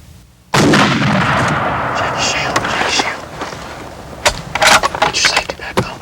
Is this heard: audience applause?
no